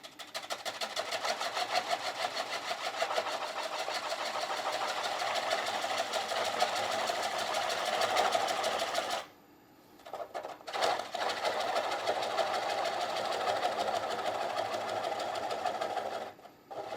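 Wood lathe spinning a turned piece, a steady close mechanical whir that runs continuously, briefly drops out near the middle, then resumes, with no talking.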